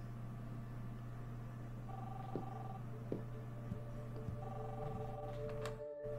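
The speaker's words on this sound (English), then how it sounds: "The phone." An in-game telephone rings in Life is Strange, with repeated electronic ring tones over a steady background hum, moderately loud and without speech.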